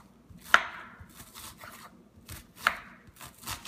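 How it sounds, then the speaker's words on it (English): Red onion cut into fine slices on a board, a few crisp knife chops with soft crunches between them, close and quiet with no one talking. "I'm doing small slices because I want as fine as I can as far as the texture goes."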